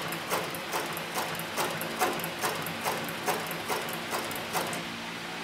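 A Cowboy CB105 heavy walking-foot sewing machine running at its slowest servo-motor speed with a size 277 thread over a 328 needle, giving an even, steady run of distinct mechanical clunks about two per second, close and moderately loud.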